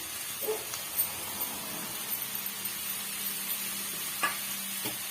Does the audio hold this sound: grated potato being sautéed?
yes